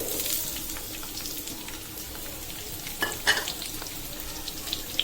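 Sliced onions, green chilies and garlic fry in hot oil in a wok, a steady close sizzle with a few sharper crackles and utensil clicks partway through, and nobody speaking.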